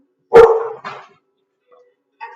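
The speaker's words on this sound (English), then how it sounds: "No barking." A single sharp dog bark followed by a shorter yip, then quiet with a faint sound near the end; close and fairly loud.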